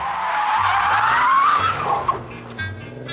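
An Audi TT and a BMW Z4 power slide on a cambered corner, tyres squealing loudly in a long, rising skid over a steady engine note, then easing off as the car moves away.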